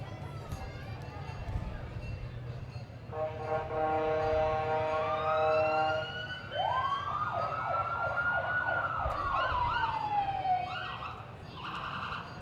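OPP police cruiser siren wailing through a community day parade, rising and falling sweeps loud and close over crowd noise, with a steady horn-like tone before it.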